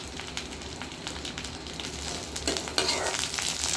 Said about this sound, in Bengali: এই যে পেঁয়াজটা আমি যেটুকু ভাজছি আর ভাজবো না, এখন আমি এর মধ্যে দিয়ে দেবো সে কেটে রাখা মরিচ কয়টা।